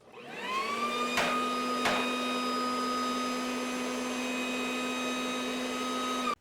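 A corded electric leaf blower spins up and runs with a steady, loud whining motor drone, held close and constant, with a couple of sharp clicks early on.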